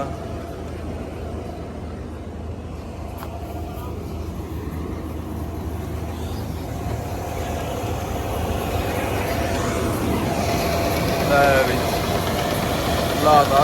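A 55 hp tractor engine hauling a 12-foot rotavator runs as a steady, rough low drone that grows slightly louder toward the end, heard close, with people talking over it at times.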